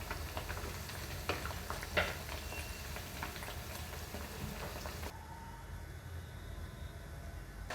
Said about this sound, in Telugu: ఇలా ఒక్కొక్కటి వేసుకుంటూ ఫ్రై చేసుకోవాలి